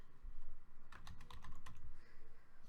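A password being typed on a computer keyboard, a quick run of close, sharp key clicks in the middle of the stretch over a soft rumbling background.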